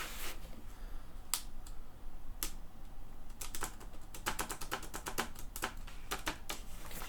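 Keys on an old Dell Dimension PC keyboard are tapped in sparse clusters, then faster bursts of sharp clicks close up, with no talking.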